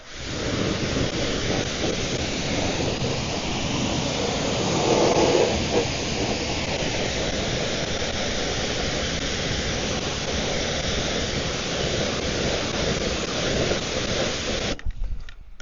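Water rinsing a dirty Mustang during a ceramic coating wash, a steady broad rushing spray that runs without break for about fifteen seconds, close and fairly loud, then cuts off abruptly at the end.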